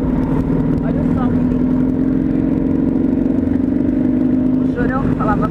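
A motorcycle with an aftermarket exhaust runs at a steady idle near a police checkpoint during a motorcycle event in Barretos, droning continuously and fairly loud with a brief dip near the end, and people talk over it.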